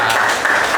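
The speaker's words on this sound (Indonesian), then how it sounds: "Oke, tepuk tangan untuk kita semua." Brief burst of applause from a classroom audience, a dense wash of clapping hands that is steady and fairly loud throughout.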